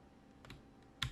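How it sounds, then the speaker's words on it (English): A few soft keyboard clicks, ending in one louder keystroke, close by in a quiet room. "got a new keyboard"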